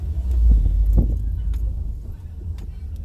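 A car speeds up from a standstill on a potholed, broken asphalt road, its low engine rumble steady and close with occasional knocks and rattles, no speech.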